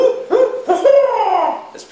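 A person imitates a barred owl call with a run of hooting vocal notes that rise and fall, loud and close, ending in a brief higher cry.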